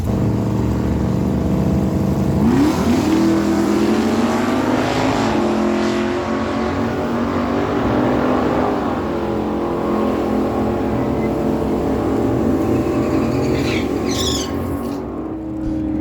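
A 1968 Plymouth Barracuda and a 1967 Pontiac Firebird drag racing side by side on a dragway: loud, continuous engine roar with a surging rev that climbs and holds, and a few high squeaks near the end, no talk.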